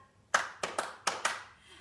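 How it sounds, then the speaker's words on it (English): Several people clap hands along to a children's song at a baby and toddler session, five sharp claps in a loose rhythm, close and clear against a quiet background. "Everybody clap."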